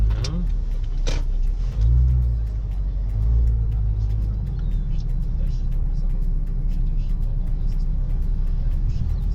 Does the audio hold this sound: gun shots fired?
no